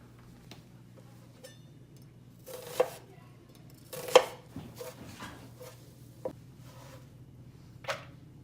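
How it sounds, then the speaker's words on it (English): Knife chopping a quarter onion on a cutting board, a few uneven strikes and short bursts of quick cuts with quiet pauses between, close and fairly clear. "We have a quarter onion. We're going to chop that up finely."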